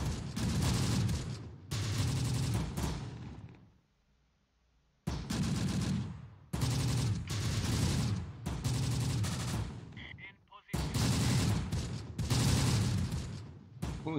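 Dense bursts of automatic and rifle fire in the World War II video game Close Combat: The Bloody First, loud and repeated across the stretch with one brief lull, no talk over it.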